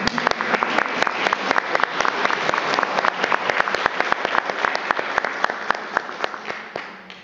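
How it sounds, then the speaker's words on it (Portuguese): A lecture audience applauds a professor, a dense, steady burst of many hands clapping that carries on for several seconds before beginning to fade near the end. "Eu até peço uma salva de palmas para ele."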